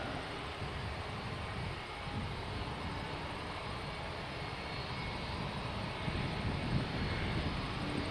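A Jetstar airliner passing overhead, a steady broadband engine roar that holds at a fairly constant level throughout, distant and unbroken, with no voices.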